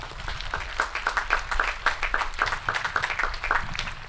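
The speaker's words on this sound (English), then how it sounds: "Can we please give them a huge round of applause for their hard work?" Audience applause at a high school graduation ceremony, moderately distant, with individual claps standing out in an uneven patter that continues throughout.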